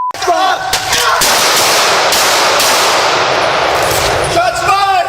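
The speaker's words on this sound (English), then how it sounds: "Shots fired!" Rapid gunfire bursts loudly at close range during a chaotic police confrontation, a dense stretch of overlapping shots lasting several seconds with shouting voices before and after.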